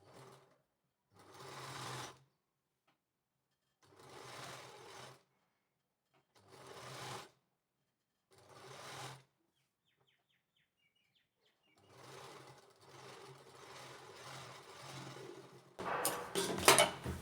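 A sewing machine stitches a kurti neckline in short bursts of rapid whirring, separated by quiet pauses, close up and fairly soft, ending in a longer, busier run.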